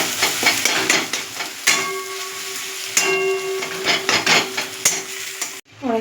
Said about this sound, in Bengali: এটাকে আমরা ভালো করে ঝুড়ো ঝুড়ো করে নেব।